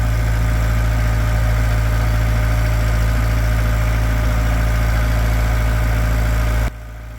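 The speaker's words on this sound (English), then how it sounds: "The engine was blaring." A narrowboat engine runs on the Lancaster canal with a loud, steady low throb and hum that holds unchanged, then drops away sharply near the end.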